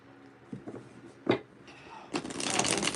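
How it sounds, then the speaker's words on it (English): Tarot cards shuffled by hand during a live reading, a few soft riffles and taps early, then a sustained loud rustling burst in the final second, with no talking over it. "One more shuffle."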